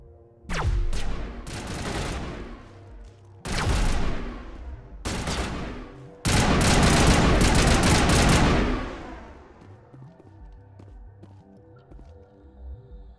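Shotgun blasts in the Mass Effect video game: four loud, heavy bursts spaced a couple of seconds apart, the last one long and sustained, followed by a low droning background.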